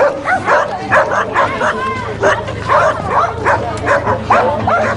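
Several dogs in a Roma settlement in Slovakia bark and yip in quick, uneven bursts, some whimpering in between, loud and close, with a steady low hum beneath and voices mixed in among the barks.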